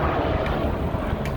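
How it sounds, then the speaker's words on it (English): A helicopter passes overhead, a loud, steady rotor and engine roar that fills the whole short stretch without a break. "It's actually a helicopter."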